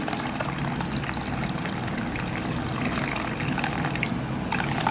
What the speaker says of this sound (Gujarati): દાળમાં પણ આ રીતે પાણી એડ કરીશું